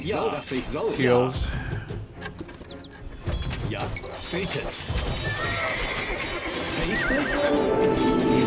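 A horse neighs and whinnies in the video game Age of Empires II, with clip-clop hooves, layered over game sounds and a loud background track.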